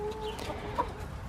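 Soft clucking from hens with their chicks, a few short calls over a low background, fairly close and unhurried.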